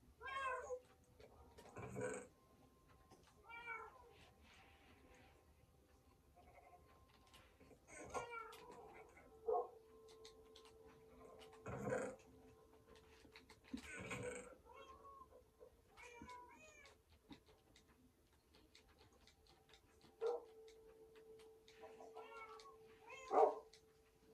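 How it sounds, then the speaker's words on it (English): A pet cat meows repeatedly indoors, several separate mews and short calls spread out at irregular gaps, fairly close against a quiet room with occasional sharp clicks. "My cat came in."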